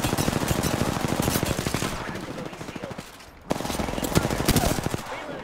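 Rapid, sustained gunfire from a Kraber sniper rifle in a video game, loud and dense bursts filling the first two seconds, a brief lull, then heavy shooting resumes to the end.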